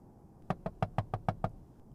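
A fist knocks on window glass in seven quick, evenly spaced raps, close and distinct, followed by quiet.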